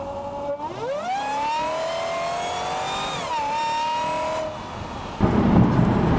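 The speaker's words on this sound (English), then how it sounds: "that's nothing compared to the blower whine" Dodge Hellcat supercharger heard up close at a stock air intake: a loud, steady high-pitched blower whine that climbs and falls with engine revs, layered over a throaty engine rumble, with no one talking.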